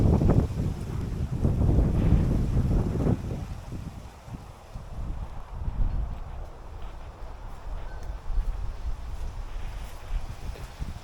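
Gusty wind blowing through leaning banana trees in a garden, loud buffeting rumble against the microphone at first, then easing into a softer, steady rush.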